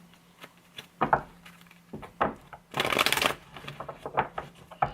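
Tarot cards are shuffled and pulled from a deck, giving soft riffling bursts and flicks that build to a dense shuffle around the middle, close and fairly quiet, with no talking.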